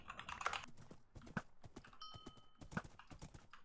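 Horse hooves clip-clopping in a Minecraft UHC game, a quick irregular run of light hoof clops close by, with faint clicking mixed in.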